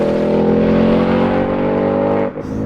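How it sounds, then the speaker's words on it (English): A Ford Mustang Mach 1 V8 roars loud and close in a sustained rev, the deep rumble holding steady before easing off abruptly near the end, with no voices. "Seems only fair to start by giving us a taste of the"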